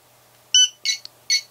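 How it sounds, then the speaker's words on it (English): A tBeacon BuzzyBo drone beacon gives three short, bright electronic chirps, close and loud, the second followed by a tiny blip, with near silence between. "you just hold it in until it makes a funny noise, and it makes this chirp"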